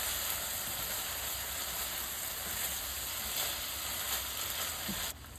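A soy sauce mixture bubbling and sizzling in a pan on a home stove for hibachi, a dense steady hiss that holds evenly throughout, close and loud with no talking over it.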